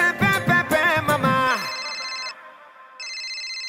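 A phone ringtone cuts in over dance music, playing two bright electronic bursts of repeated tones, loud and near, with a short gap between them.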